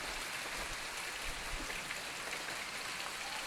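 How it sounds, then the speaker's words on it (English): Soft, even rainfall patters outdoors during a sunshower, a steady fine hiss of drops at moderate to low volume with no voices and no pauses. "It's raining with the sun shining."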